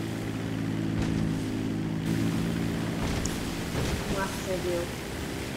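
A Dodo seaplane in GTA V on PS4 flies low over wavy water, its propeller engine a steady, close drone throughout while someone speaks briefly.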